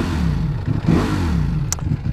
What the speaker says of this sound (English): Ducati power. This is obviously a V4.